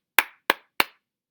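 Three crisp hand claps, evenly spaced about a third of a second apart, tap out the three-syllable rhythm of cantaloupe, close and clear against silence.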